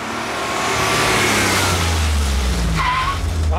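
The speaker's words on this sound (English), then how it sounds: "too much lean, too much squeal, too much noise" Loud tire squeal rises over a roaring car engine as it corners, a continuous screech close by with the motor droning underneath.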